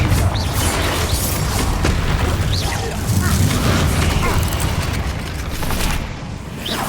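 Bombarda and Confringo spell blasts in the video game Hogwarts Legacy, a continuous roar of loud booming explosions and bursts with no quiet gaps between them.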